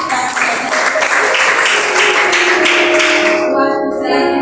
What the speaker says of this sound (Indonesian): Mari kita berikan tepuk tangan yang meriah untuk para pendengar.